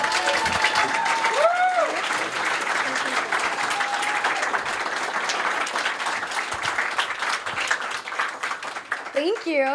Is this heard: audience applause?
yes